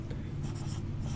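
An ink pen writing on paper, a brief close scratching over a low steady hum, with a few light strokes.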